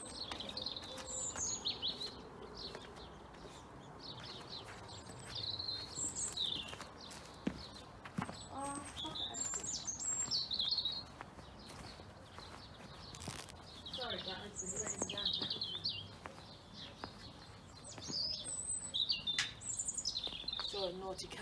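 Birds chirp and tweet intermittently outdoors, with scattered high calls over soft rustling and occasional footsteps.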